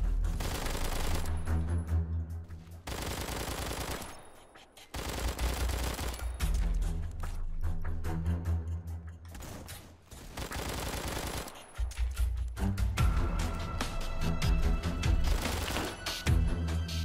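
A UMP-45 submachine gun in a video game fires long sustained automatic bursts separated by brief pauses, loud and continuous throughout, with no talking.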